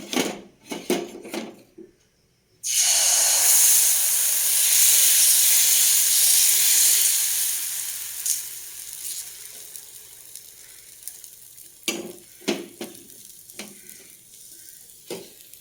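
Ragi flour uttapam batter poured onto a hot griddle, starting with a few close clinks and then a loud, steady sizzle that slowly fades over several seconds before more utensil clatter returns at the end.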